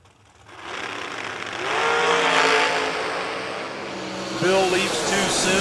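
Drag racing cars roar down the lanes at a Friday race event, a sustained loud engine drone that swells and shifts pitch, with a commentator talking over it.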